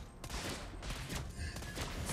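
Gunshots from the hero Lesley in the Mobile Legends video game, heard as a quick series of sharp cracking shots over a busy game soundscape, with no talking.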